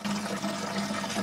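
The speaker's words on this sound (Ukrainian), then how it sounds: "ось такий напір у крані має лише кілька годин на добу" Tap water gushes at strong pressure in a home in Zaporizhzhia, a steady rushing stream heard close up for a brief moment, with no voices.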